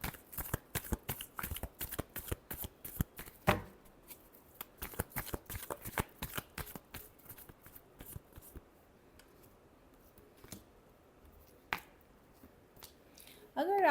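Tarot cards are shuffled in rapid, close riffling bursts that thin out into a few scattered flicks, and a voice briefly cuts in at the very end.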